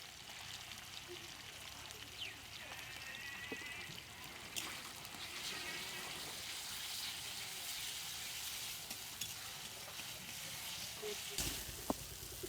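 Chopped onion sizzling in a pan while cooking chicken curry, a faint, steady frying hiss running throughout with a few small clinks, heard at a distance.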